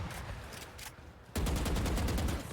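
Rapid bursts of gunfire from an esports video game match, with a brief lull before a loud, dense volley of shots that continues steadily to the end.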